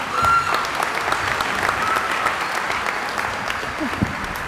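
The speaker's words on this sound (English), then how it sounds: "Give her another round of applause." Commencement ceremony applause from a large crowd, a sustained roar of clapping with scattered louder claps and some voices mixed in underneath.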